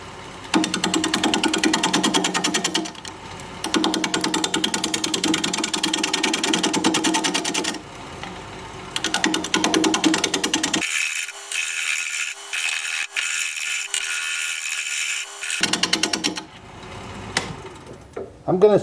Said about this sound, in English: We're going to be turning at 600 RPM, 5/8 inch bowl gouge